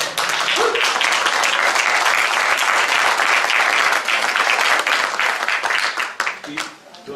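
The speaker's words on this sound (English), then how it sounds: "they could applaud with me" An audience at a Ventura County public meeting on fracking bursts into loud, sustained applause, a dense wash of clapping from many hands that swells and then tapers off toward the end.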